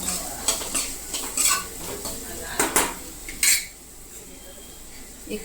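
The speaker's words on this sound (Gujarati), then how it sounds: "મિક્સ કરી નાખશું।" A spoon scrapes and clinks against a cooking pot as Kashmiri red chili powder and rock salt are stirred in for farali samba khichdi, giving irregular metallic knocks over a soft sizzle, close and fairly loud.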